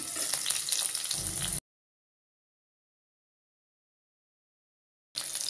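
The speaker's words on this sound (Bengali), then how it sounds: "তেলটা গরম হয়েছে, দিয়া দিলাম মরিচগুলা। মরিচটিরা ভাইজা তুলা লমু।" Chilies, eggplant and tomatoes frying in hot soybean oil make a loud, dense sizzle that cuts off into a long silence before the sizzling returns at the end.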